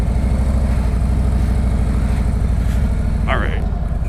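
Harley-Davidson Road Glide motorcycle engine running, a loud, steady low throb close by throughout, with a brief sharp chirp near the end.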